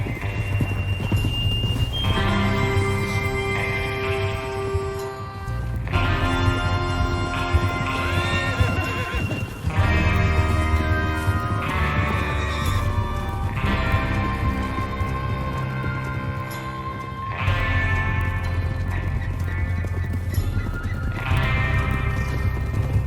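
Horses gallop in Red Dead Redemption 2, steady rhythmic hoofbeats pounding under a swelling orchestral score for over twenty seconds, loud and continuous with no voices.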